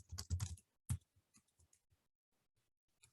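Typing on a computer keyboard to enter a name into an online giving form: a quick burst of loud keystrokes at the start, then scattered fainter key taps trailing off into quiet.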